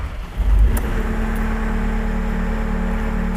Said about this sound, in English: At this state, the engine should be running.